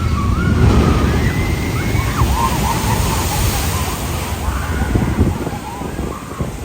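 Water from an Islands of Adventure boat ride splashes and crashes in a continuous, fairly loud wash of surf-like noise, close by, with crowd voices and chatter mixed underneath.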